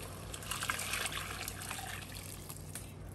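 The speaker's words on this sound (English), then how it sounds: "Okay, so now I'm gonna add the water." Water is poured into a pot for a tomato hot pot soup base, making a faint, steady trickle close by with no talking.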